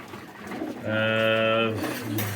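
A pigeon gives a single drawn-out coo, close and clear, over a low background murmur.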